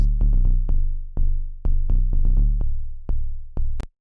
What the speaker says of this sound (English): And then lastly, we have the sub bass.